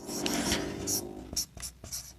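Chalk or marker writing math on a board during a class 12 differentiation lesson, a close run of scratchy strokes and short taps with a steady hum beneath.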